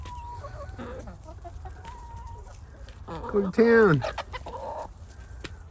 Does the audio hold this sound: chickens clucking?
yes